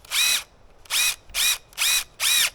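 A power drill whirs in five short, even bursts with brief pauses between, close and loud, driving 3-inch screws into a raised garden bed with no talking.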